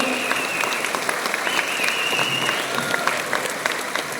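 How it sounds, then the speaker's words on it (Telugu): A crowd applauds loudly and steadily at a company's 20th anniversary celebration, a dense, continuous clatter of many hands clapping without a break. "మనందరి తరపున గట్టిగా చప్పట్లతో ధన్యవాదాలు చెబుతాం"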